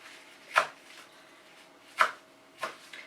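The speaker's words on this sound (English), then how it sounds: "it's just a rough chopping" A knife roughly chops leaves on a board in three sharp, separate strikes, close and clear with quiet gaps between them.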